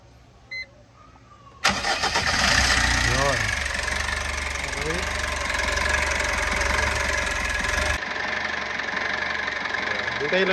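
A Foton Traveller van engine cranks and catches, then holds a loud, rough idle close by with a steady knocking rumble. The engine cuts out near the end, and some talk is heard before it starts.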